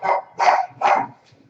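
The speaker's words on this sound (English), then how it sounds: "Dogs are barking." A dog barks three times in quick succession, loud and close, each bark sharp and full, with a short quiet gap after the last.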